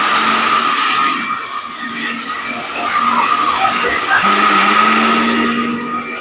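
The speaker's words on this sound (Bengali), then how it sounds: "দেখেন অবস্থা কি করছে ব্লেন্ডার" A Ricco Toofan blender grinds rice into powder, a loud continuous whirring motor drone with a steady high whine, close to the listener throughout, with a voice speaking over it.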